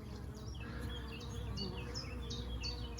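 A steady hum of many honeybees buzzing close by at a hive, a darker-coloured colony, with faint bird chirps scattered over it throughout.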